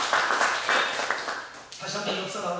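A church congregation applauding at a Sunday worship service marking the church's 42nd anniversary: a broad, sustained wash of many hands clapping at close range, with talk and a dip partway through.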